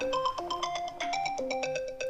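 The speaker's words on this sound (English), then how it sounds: "My phone's ringing." Mobile phone ringtone in a woodturning workshop, a bright repeating electronic melody of quick tonal notes, close and clear, playing alone without talk.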